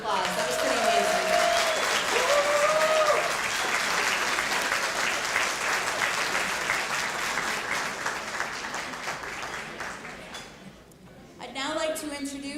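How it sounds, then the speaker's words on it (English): Guests at an annual chamber awards dinner applaud, a full room of steady clapping that starts under a speaker's voice and then gradually thins and fades before talking resumes at the end. "Let's give him another round of applause."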